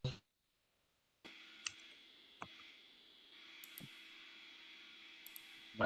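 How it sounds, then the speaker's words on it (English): Someone types on a computer keyboard, and the keystrokes come through an open microphone during an online spoken-word reading. The clicks are faint and scattered over a low electronic hum. "Someone's typing is coming across."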